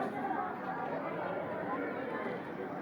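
Dense crowd chatter at Mahad temple, a steady hubbub of many overlapping voices from a packed queue of devotees, continuous and close, with no single sound rising above the murmur.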